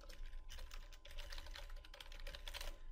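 An email address typed on a computer keyboard, a quick, close run of soft key clicks in an uneven rhythm, no voices.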